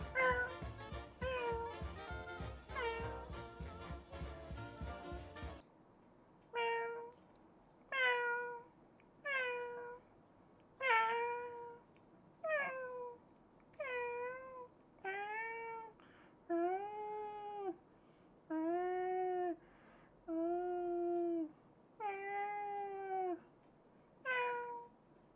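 A person imitating a cat, producing a long series of drawn-out, rising and falling meows, each separated by a short pause, close and clear in a quiet room after an initial stretch of rapid, clustered calls.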